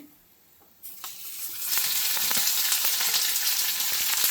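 Sliced onions hit a hot pan and sizzle for a traditional Karnataka huli gojju, starting quiet, then a sudden loud frying hiss that keeps building with scattered crackles and stirring, no speech.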